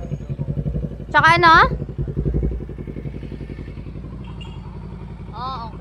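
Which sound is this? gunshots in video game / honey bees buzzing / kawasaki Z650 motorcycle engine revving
kawasaki Z650 motorcycle engine revving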